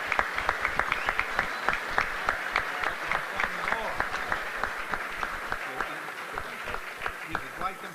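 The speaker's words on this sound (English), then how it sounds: "Please give him an outstanding applause," Audience applause at a 2002 Carlton Blues football club guernsey presentation, steady dense clapping from a crowd sustained for several seconds with an announcer's voice briefly over it.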